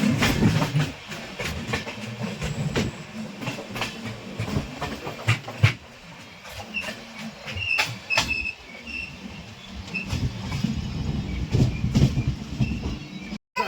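Train rolling along the Konkan Railway, heard from inside a carriage as a steady rumble with rhythmic clickety-clack of wheels over rail joints and occasional rattles and knocks, sustained and fairly loud throughout.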